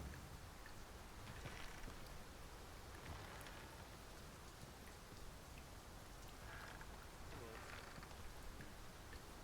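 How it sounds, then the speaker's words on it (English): Heavy rain pours steadily in the video game Dragon's Dogma 2, a constant dense hiss of drops on surfaces, loud and unbroken throughout, with a faint rumble of thunder. "It's raining most heavily, a characteristic of these climes."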